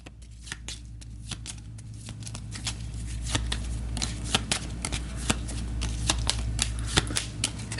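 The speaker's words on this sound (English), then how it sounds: "Give it a quick shuffle" A deck of turn-order cards for the Aeon's End card game is shuffled by hand at close range, a fast run of crisp riffling snaps growing slightly louder, with no talk.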